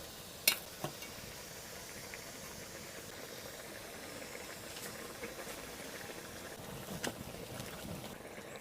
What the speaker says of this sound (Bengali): তরকারিটা ফুটে গেছে, এবার মাছ দিয়ে দেবো।